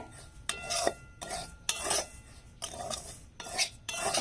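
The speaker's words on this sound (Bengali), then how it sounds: "গ্যাসটা নর্মালে রেখে সুজিটা আমি ভালো করে ভেজে নেব" Dry semolina is stirred and roasted in a pan for a coconut pitha, with a spoon scraping in quick, rhythmic strokes, about eight close, gritty rasps separated by short pauses, and no talk.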